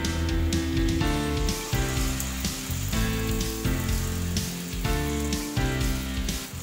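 Kalathappam batter poured into a hot pan, sizzling and crackling steadily at close range with a few soft surges, no talking.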